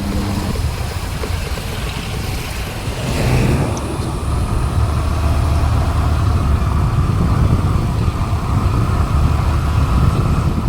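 Heavy road traffic on Ganeshpuri road, a dense continuous rumble of engines and tyres with idling vehicles close by, growing slightly louder after a few seconds and holding steady.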